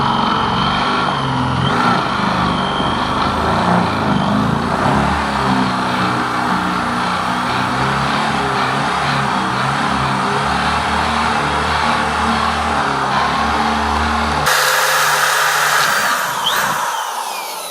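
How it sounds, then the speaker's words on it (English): A power drill boring countersink holes into a wooden floor, a loud continuous motor whine and grinding cut held steadily for most of the stretch, then pitching up briefly before spinning down. "So now I'm going to be drilling the countersink holes into the floor holes"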